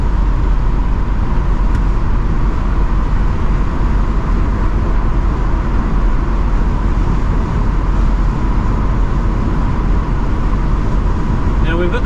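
A 1970 Mercedes-Benz 280SE 3.5 Cabriolet accelerating hard, a steady loud engine and road roar held without a break throughout, heard from close by.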